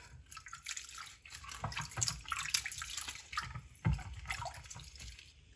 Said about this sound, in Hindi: इनको अच्छी तरह पानी में धो लेंगे।